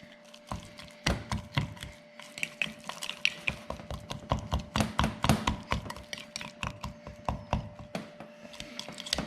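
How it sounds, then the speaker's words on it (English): Brownie mix being stirred in a bowl with a utensil: a steady run of sharp taps and scrapes against the bowl, irregular and fairly close, with no talking. "Now we're gonna go ahead and mix that up."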